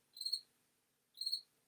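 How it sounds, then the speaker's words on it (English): A single cricket chirps twice indoors in an office, two short shrill trills a second apart, faint against an otherwise quiet room. "Do you hear crickets? There's totally a cricket in my office."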